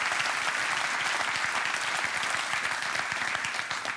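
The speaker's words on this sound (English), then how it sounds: "I would also like to raise a very warm round of applause for the whole Hardt Hyperloop team." An audience at a live event for the Hardt Hyperloop reveal gives sustained, warm applause, a dense wash of many hands clapping evenly at moderate distance with no talking on top.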